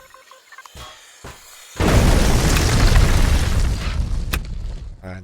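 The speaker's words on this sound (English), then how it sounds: "Alright, this one's exploding too." A heavy explosion in the space survival game Empyrion Galactic Survival (Reforged Eden 2) blasts in after a few quiet clicks, a loud booming roar that rumbles on for several seconds before slowly easing off.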